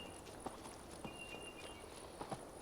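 Horse hooves during riding in the video game Assassin's Creed Valhalla: a quiet, steady clip-clop of walking hoofbeats set against a constant soft ambient hiss, with no voices.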